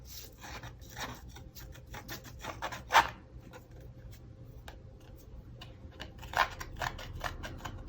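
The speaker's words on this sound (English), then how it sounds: "Just take your scissors, and I'm only going to do this side that has the blank edge where there's no flowers, and just kind of scruff those up." Scissor blades scruffing the blank, flowerless edge of a watercolor card, a soft dry rasping that repeats in short strokes, close and fairly quiet, with one sharper scrape standing out.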